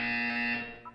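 A steady electronic buzzer tone from the video game Portal 2, a sustained harmonic drone that holds for most of a second, then fades and breaks into a short higher blip at the end.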